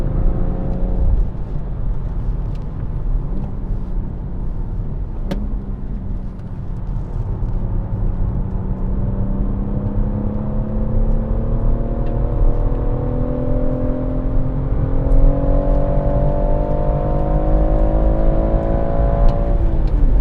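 A BMW M140i engine revs hard on the Goodwood race track, held in fifth gear and climbing steadily in pitch toward 7,000 rpm as it accelerates, loud and sustained, with a smooth rising whine and no voices.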